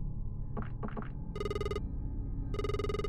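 A retro-style telephone rings in a pixel horror video game, two bursts of bright electronic ringing trilling loudly over a low ambient drone, preceded by a couple of soft muffled knocks.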